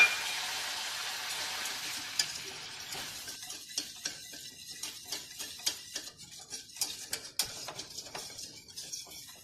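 Flour being stirred into melted margarine in a saucepan, a utensil scraping and clicking against the pan in quick irregular strokes, close and fairly quiet, with no voices.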